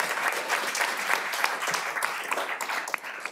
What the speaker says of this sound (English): Applause if you'd like,